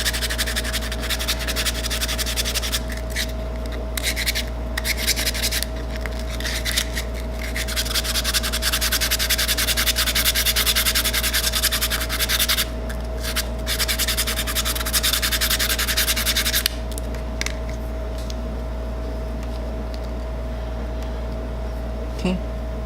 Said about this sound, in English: I guess I have to sand it down a little more